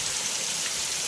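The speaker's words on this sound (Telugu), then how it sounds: "చాలా పెద్ద వర్షం" Heavy rain falls in a forest as a constant, loud hiss with no breaks over a short stretch.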